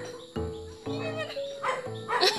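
A dog barks several times in short bursts under Filipino-language talk, with voices continuing between barks outdoors.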